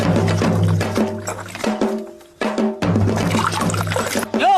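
Liquor is poured into a vessel in a bursty, gurgling stream that breaks off briefly midway and resumes, with the splashing close and fairly loud.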